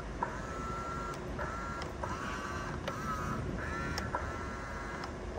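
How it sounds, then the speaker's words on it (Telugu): Electric adjustable side mirrors on a 2017 Suzuki WagonR VXi motor in repeated short whirring bursts, about five quiet runs with pauses in between, under a steady background hum. "అడ్జస్టబుల్ మిర్రర్స్ అండి."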